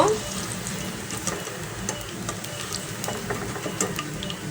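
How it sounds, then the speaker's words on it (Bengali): Rohu fish koftas fry in hot oil, giving a continuous soft sizzle and crackle with light scraping stirs, quiet and close, with no voices over it. "একটু লাল লাল করে ভেজে নিচ্ছি"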